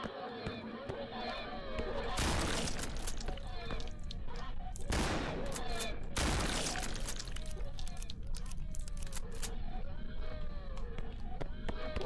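Gunfire from the player's weapon in a horror game rings out in several sharp, loud bursts spread across the stretch, with ambient game noise between shots and a voice talking throughout.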